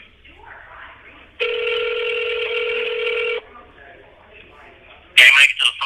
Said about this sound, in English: you'll hear his phone ring